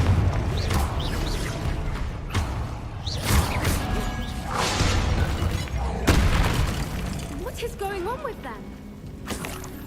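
Confringo explosion spell cast in the Hogwarts Legacy video game: several deep booms and whooshes over busy game sound, with a voice talking over it.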